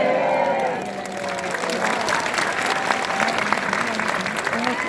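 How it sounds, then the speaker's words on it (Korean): Large audience applauding steadily at a Korean event, a dense continuous wash of clapping with some crowd noise, fairly loud and sustained throughout. "저한테 박수 치는 줄 아는데 그게 아니군요"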